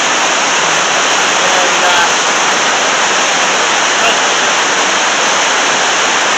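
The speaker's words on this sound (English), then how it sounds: "That's the spillway coming over." Water pours heavily over a river spillway, a loud constant rushing roar with no pauses.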